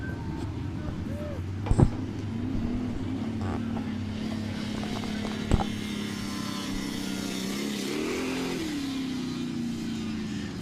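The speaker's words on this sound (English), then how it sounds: "just heard the 5 car go by the flag stand" A Thunder Stock dirt track race car at Southern Ontario Motor Speedway drones past the flag stand during a single-file restart, its engine a steady mid-pitched hum that swells and bends near the end. Sharp knocks punctuate it, and an announcer talks over it.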